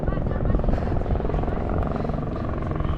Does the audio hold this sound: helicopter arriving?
yes